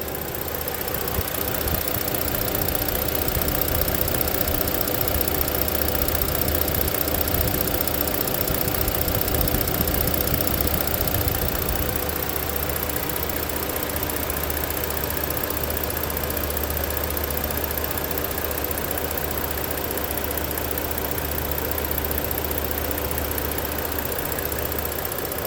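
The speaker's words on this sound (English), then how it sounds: "I thought you guys actually get to hear the actual engine at idle." A 2015 Ford Explorer Police Utility engine idles steadily for the whole stretch, a constant low rumble with a faint ticking knock and no talking over it.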